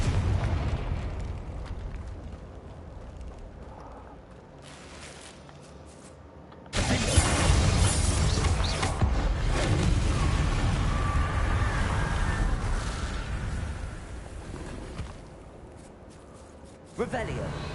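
Confringo fire-blast spell in Hogwarts Legacy, a sudden loud burst that breaks into a long, rumbling roar after a quieter stretch, with a spoken incantation over the game sound.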